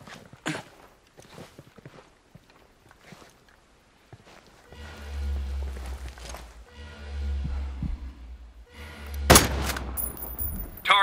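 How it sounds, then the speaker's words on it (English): Muffled enemy gunfire in Ghost Recon Breakpoint, heard as scattered thumps and bursts at a distance, with low rumbling booms and a sharper loud shot near the end. "I hear unsuppressed enemy fire."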